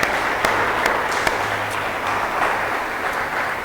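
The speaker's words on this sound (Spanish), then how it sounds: "Denle un aplauso al Señor, hermano, porque solo Él puede hacer esto" Congregation in a church applauds steadily and fairly loudly, a dense wash of clapping with a few sharper claps standing out, no talking over it.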